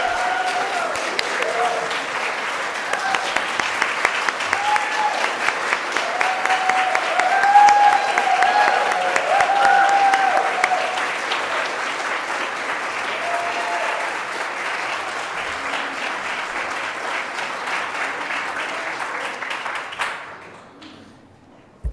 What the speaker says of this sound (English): I want to make sure she gets a big, big round of applause